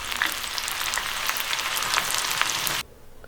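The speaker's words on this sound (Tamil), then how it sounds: "ஸ்லைஸ் பண்ண வெங்காயத்தை இந்த மாதிரி எண்ணெயில் போட்டு நம்ம பொரிச்சு எடுத்துக்கலாம்." Sliced onions deep-frying in oil for an egg masala curry, a dense, bright close sizzle that holds steady for nearly three seconds and then cuts off abruptly to quiet, with no talking.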